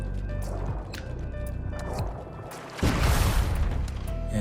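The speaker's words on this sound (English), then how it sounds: "So why don't we swim back under the waterfall here" Swimming under a waterfall in Fallout 4, a steady rushing splash of water that swells louder near the end, with faint game tones and no talking.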